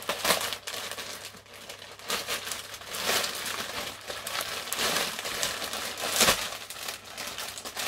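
Plastic foil wrapping around a mail-order sweatshirt parcel is pulled open and handled, producing close, irregular crinkling and rustling bursts.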